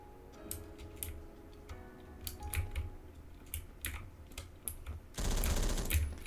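Bursts of automatic gunfire from an M60 fired from the hip in Roblox Phantom Forces, scattered sharp shots building to a sustained loud volley near the end over game background noise.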